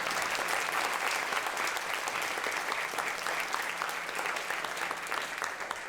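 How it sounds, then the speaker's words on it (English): Audience applause for Chair Finney at a scholar awards reception, a sustained even wash of many hands clapping that tapers slightly toward the end. "So if we can give Chair Finney a round of applause."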